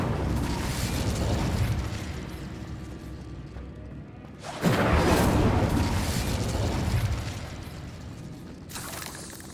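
Repeated fiery spell blasts from Hogwarts Legacy on PlayStation 5, loud booming bursts with a big one around the middle over a steady rumbling game backdrop.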